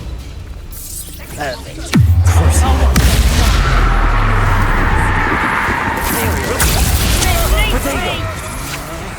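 A spell explosion in the Hogwarts Legacy video game lands with a heavy boom, then a long, loud rumbling blast that slowly fades. A voice says a single word.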